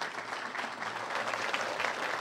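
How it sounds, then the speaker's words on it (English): Brief, steady applause from an indoor audience at a police press conference, a soft, even patter of many hands clapping without voices. "Can we give him a round of applause?"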